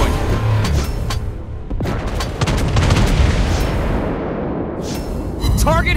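Naval artillery from a German cruiser in World of Warships Blitz, a dense, continuous rumble of booming gunfire and explosions, loud and sustained throughout, with brief synthetic game tones near the end.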